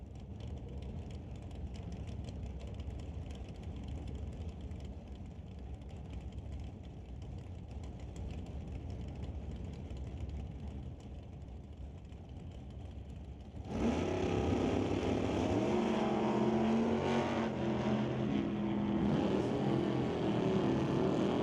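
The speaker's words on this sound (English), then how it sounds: "Bring up Al Prock in the Plymouth to race against Lorenz Schwartz." A Plymouth drag racing car at a test-and-tune drag event: a steady engine rumble holds for several seconds, then a sudden, much louder roar bursts out as the car launches and keeps going to the end.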